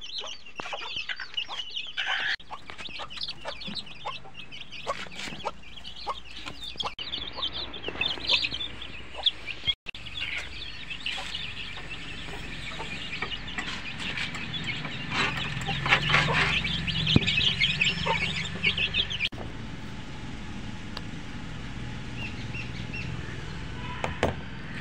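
Chickens cluck and call in a poultry coop, the sounds coming as steady, scattered clucks and short squawks at moderate, close-to-mid distance, some louder bursts standing out, with no talk.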